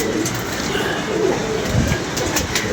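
Pigeons coo softly in soft repeated calls against a steady background hum, with no one talking.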